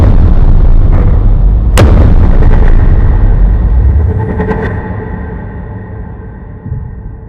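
Zuru X-Shot Crusher toy blasters in a boom battle, heard as a loud, dense stretch of booming bursts with one sharp crack standing out early, then fading into rumbling noise, close and with no talking.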